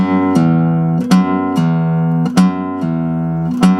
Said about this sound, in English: you'll get a stronger pull-off sound